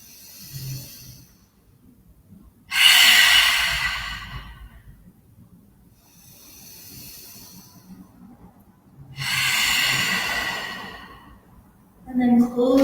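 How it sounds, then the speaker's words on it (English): Slow, deep yoga breaths come close and loud: long airy inhales and exhales in a steady paced rhythm, with quiet pauses between them and no talking. "Inhale a little bit longer. Match the same amount with the exhale."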